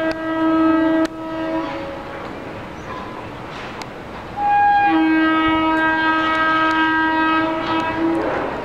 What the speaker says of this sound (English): All these captures are of Honking Brindavan WAP4s. This is Brindavan Express.